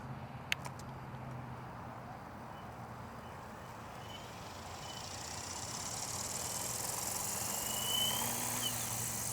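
A radio-controlled helicopter fitted with a RadioMaster Nexus XR controller takes off and hovers. A few sharp clicks come first, then a faint rotor whine rises and swells steadily as it lifts into a hover.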